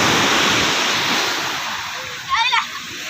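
Sea waves wash against the shore at Real, Quezon, a broad steady rush of surf that slowly fades, with a brief voice cutting in near the end.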